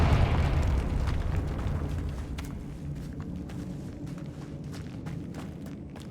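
A Confringo blasting spell explodes in Hogwarts Legacy with a loud, rumbling boom that decays into crackling debris and light footsteps.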